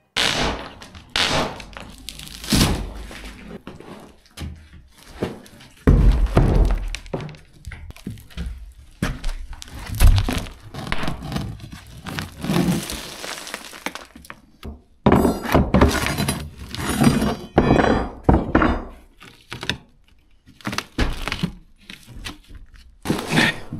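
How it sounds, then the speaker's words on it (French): Old flooring and lino being torn up during a home renovation: repeated loud thuds, cracks and scraping bursts of demolition, uneven and close, with no talking. "la tâche très physique, très difficile, horrible d'arracher le sol et le lino"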